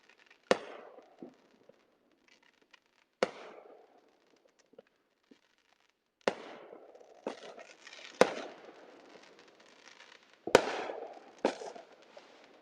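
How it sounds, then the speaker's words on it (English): Fireworks set off in a church parking lot in Tennessee bang sharply in separate bursts, each followed by a crackling tail, spaced a few seconds apart and fairly distant against a quiet background. "somebody in the parking lot firing those fireworks off"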